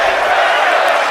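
A crowd at a women's wrestling show chants loudly and continuously, a dense roaring wash of massed voices with no single voice standing out.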